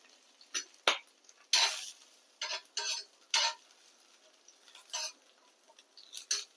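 Garlic, ginger, mustard seeds and cumin in hot oil, faint sizzle broken by sharp irregular pops and crackles of spluttering seeds, close and quiet with no talking.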